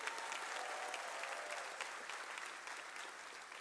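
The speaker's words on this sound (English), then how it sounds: "give a very loud applause for Dr. Goffney." Audience at a high school graduation ceremony applauding, a steady crowd-wide patter of clapping at moderate distance, fairly quiet overall and tapering slightly toward the end.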